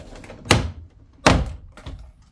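Door panel on a Mercedes E-Class W212 being pried free with a plastic trim removal tool, giving two loud, sharp clip-release thunks followed by a fainter third pop, close by with no talking.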